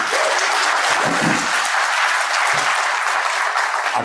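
Applause from an audience at a political speech in Telangana, loud and sustained clapping that fills the whole moment with no voice over it.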